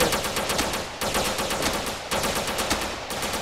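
Rapid automatic gunfire bursts in a GTA roleplay game, loud and close, three sustained volleys of fast repeated shots with brief gaps between them and no talk over the top.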